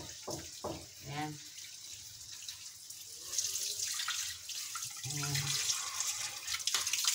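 String beans rinsed under a running kitchen tap, a steady hiss of flowing water with light splashing that swells after a few seconds, while someone speaks briefly over it.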